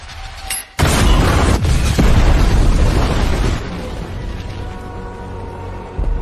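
A sudden loud explosion bursts in after a brief quiet moment, then a long rumbling roar that slowly fades, with a second thump near the end.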